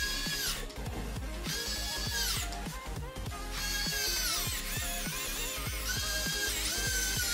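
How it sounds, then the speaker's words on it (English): An electric screwdriver drives screws while a gaming PC is being built, its motor whining up in pitch in several repeated bursts, close and fairly loud, with no one talking. "Tighten in all these screws."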